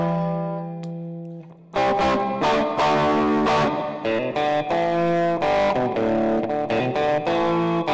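A distorted electric guitar with a nasal, quacky wah-like filter plays chopped, rhythmic chords after a sustained opening note, loud and close.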